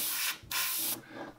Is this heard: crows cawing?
no